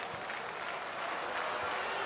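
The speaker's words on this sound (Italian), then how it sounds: "L'applauso per il portierino cresciuto e coccolato in casa, Simone Scuffetta." A stadium crowd applauds goalkeeper Simone Scuffetta at a Serie A match between Udinese and Sassuolo, a steady wash of distant clapping that swells slightly toward the end, with faint commentary underneath.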